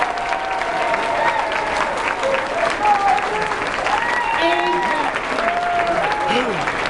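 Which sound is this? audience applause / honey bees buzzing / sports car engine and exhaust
audience applause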